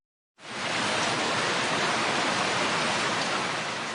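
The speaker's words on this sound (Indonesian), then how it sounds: "Wah, hujan deras." Heavy rain pours down in a steady, dense roar that starts abruptly and stays loud and even throughout, with no voices.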